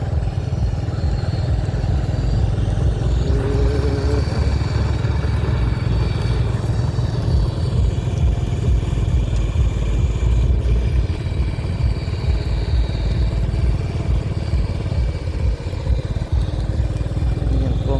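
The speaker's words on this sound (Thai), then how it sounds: "ติ๊กน้อยข้าเจ้าขี่อันนี้เนาะรถน้อย" A small motorbike is ridden continuously through Vientiane's That Luang area, its medium engine humming steadily and loudly up close, with rushing wind and faint rattles over the whole stretch.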